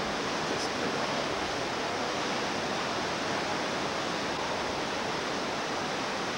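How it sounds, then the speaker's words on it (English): Ocean breakers crash onto the beach at Daytona, Florida, a constant loud roaring surf that stays even throughout, with no voices. "the sound of the waves hitting the beach. At least from where I'm standing, it's quite a roar."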